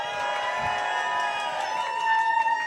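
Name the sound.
crowd cheering for drag performer Penny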